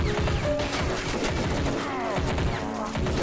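Artillery barrage in the video game Army Men Battle Simulator, a dense continuous fusillade of booms and gunfire rumbling without pause, loud and layered throughout.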